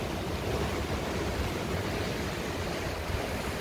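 Ocean waves on a long beach with rocky outcrops, a steady broad wash of surf that stays constant and fairly loud throughout, with no voices.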